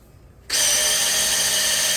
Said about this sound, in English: I am spinning the oil pump with the drill and our adapter